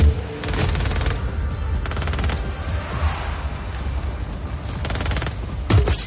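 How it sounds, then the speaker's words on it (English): Rapid bursts of missile fire in the Just Cause 4 jungle, several loud salvos of crackling launches and booms in clusters with short gaps, set over a steady rumbling game background. "Firing missiles now."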